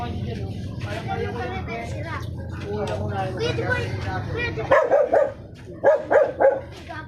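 A dog barks in two quick bursts of three near the end, following background chatter and engine rumble.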